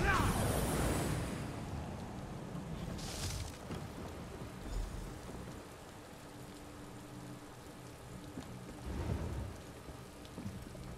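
A lightning spell crackles in Elder Scrolls Online as a loud burst of noisy static that fades into a steady stormy hiss. A second, softer surge of crackle arrives near the end.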